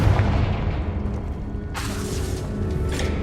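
A Confringo fire spell bursts in Hogwarts Legacy, a loud booming blast that swells with a bright crackling flare midway through, set over a low rumbling game background.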